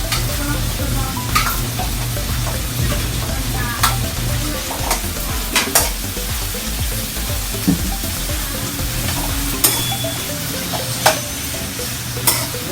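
String beans (sitaw) stir-frying in a pan: a loud, close, continuous sizzle with repeated scraping and clacking stir strokes at irregular intervals.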